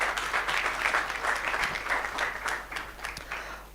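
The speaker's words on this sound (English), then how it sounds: "Let's give them a round of applause." Audience applause at the opening ceremony of a 13th-edition event, with steady clapping from a sizeable crowd that swells and fades in waves over a few seconds, fairly close and with no talking.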